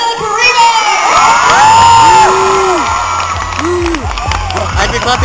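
A convention panel crowd at SMASH! 2011 welcomes a guest with loud, sustained cheering, whoops and shouting, a dense roar that fills the whole stretch, with voices rising above it.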